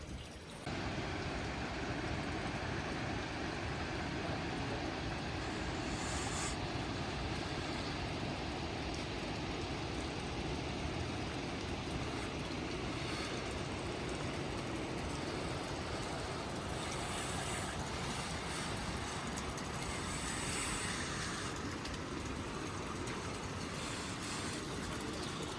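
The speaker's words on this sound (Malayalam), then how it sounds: "അങ്ങനെ നല്ല മഴ കേട്ടോ ഇവിടെ. ദൂരാല് നല്ല മഴയാണ്." Heavy rain pours steadily on the Annapurna Base Camp trek in cold February high-altitude weather, a soft, even, unbroken roar held at low level for the whole stretch without voices.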